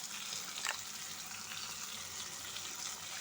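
Mustard, poppy seed and green chili paste sizzles over medium heat in a pan with carrots and small fish, a steady bright hiss with a few faint crackles throughout.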